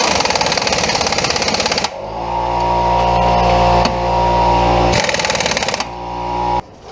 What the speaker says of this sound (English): So I'm going to run these down with the impact, but not fully tighten it yet